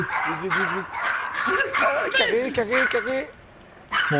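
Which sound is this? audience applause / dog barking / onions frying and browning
dog barking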